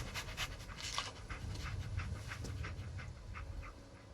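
Dogmeat, the dog from Fallout 4, pants in quick, rhythmic bursts, close and fairly soft, over a low rumbling background with no voices.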